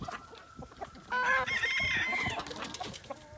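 A sudden burst of loud squawking as chickens scuffle, a rooster breaking up the squabble with harsh calls rising above scattered clucks, then settling back down.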